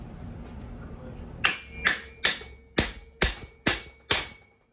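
A hammer strikes a part of a broken garage door being rebuilt, seven loud ringing metallic blows in a fairly even rhythm after a quiet start, close by with no talk.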